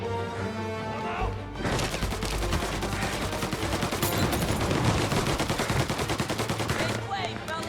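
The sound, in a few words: gunfire in video game Mafia: Definitive Edition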